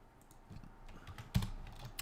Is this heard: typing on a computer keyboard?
yes